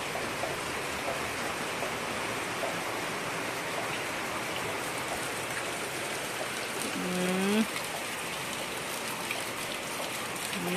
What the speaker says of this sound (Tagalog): Parang humina ang ulan.